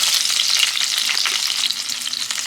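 Pieces of boiled egg fry in hot oil in a pan, giving a steady, loud sizzle with crackling spits throughout and no voices.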